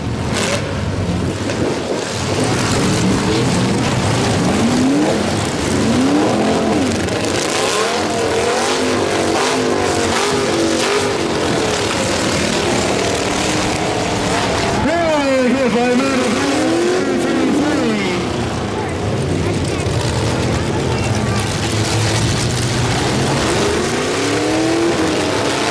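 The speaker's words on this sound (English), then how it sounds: "Trucks jockeying for position on the first side of the ring." Full-size trucks in a demolition derby at the Fall Brawl roar loudly and continuously around the ring, engines revving and whining as they jockey and collide, with a commentator's voice over the din throughout.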